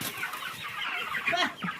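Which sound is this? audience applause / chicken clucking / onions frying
chicken clucking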